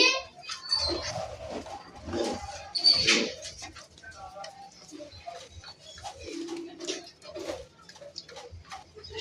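A paired male pigeon repeatedly coos in soft, rolling bursts close by, mixed with rustling and other bird sounds.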